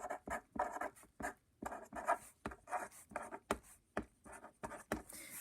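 A pen scratches across paper, drawing lines and a box in short, quick strokes with brief pauses between, close and fairly quiet.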